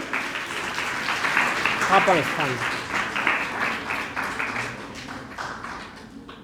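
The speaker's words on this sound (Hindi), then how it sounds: "जोरदार तालियों के साथ स्वागत।" Applause rises from a crowd welcoming a guest at a computer center opening ceremony, steady clapping running under a voice speaking over it for several seconds.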